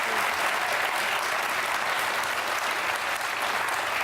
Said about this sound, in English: thank you for one person clapping for me